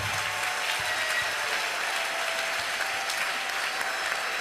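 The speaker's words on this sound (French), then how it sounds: "Acclame encore pour Jésus." A church congregation applauds and cheers for Jesus, dense steady clapping filling the whole stretch at a moderate distance.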